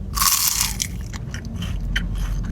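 A sharp, loud crunch as teeth break into crispy pistachio-topped baklava, followed by softer crackling chews close to the mic.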